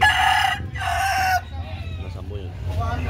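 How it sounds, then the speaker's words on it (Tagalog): Roosters and chickens at a poultry sale in Cebu crow and cluck close by, two long strong crows followed by softer clucking, with people talking in the background. "Ito pa mga manok."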